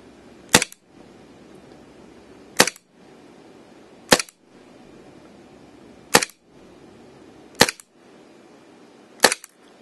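Cybergun Colt 1911A1 airsoft pistol firing 0.2 gram BBs, six sharp, crisp gas-blowback cracks spaced about two seconds apart in a quiet room.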